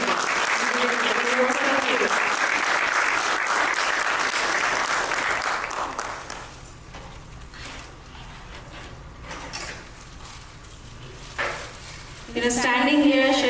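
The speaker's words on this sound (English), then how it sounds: "Can we have a big round of applause for everyone?" A big round of applause from the audience at a meditation summit in Orlando, Florida fills the first six seconds loudly, fades to scattered clapping, and gives way to a voice speaking at the end.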